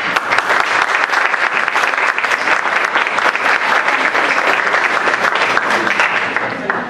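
An audience at a women's health panel gives loud, continuous applause for the panelists, dense clapping that stays steady for about seven seconds without pause.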